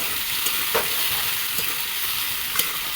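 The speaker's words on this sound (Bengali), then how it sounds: "তো নাড়াচাড়া করে দেবো" Tomatoes fry in a hot pan with a steady sizzle as a spoon stirs them, adding a few sharp scraping clicks against the pan over a short stretch.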